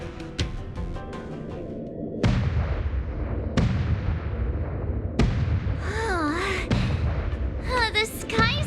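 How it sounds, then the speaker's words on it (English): Skysplitter gun salute in the game Honkai Star Rail, four heavy booming blasts spaced about one and a half seconds apart, loud and rumbling, with voices speaking between the later shots. "The Skysplitter's gun salute is really loud."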